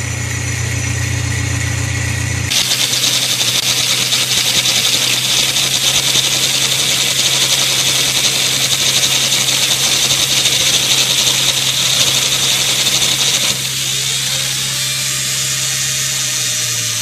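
A small engine on a Keg Micro mini cutter runs steadily, then revs higher and holds a loud, continuous drone before easing back down near the end.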